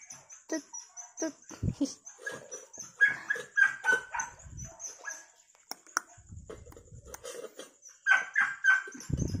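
A dog whimpers, yips and gives soft barks in a string of short, fairly close sounds during a first try at solid food.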